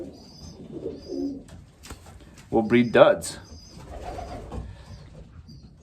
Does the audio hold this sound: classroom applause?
no